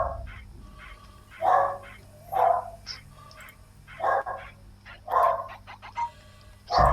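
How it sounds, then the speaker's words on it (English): A dog barks indoors in a series of about seven sharp, separate barks spaced a second or so apart, fairly loud and near, over a low background hum. "My dog is barking."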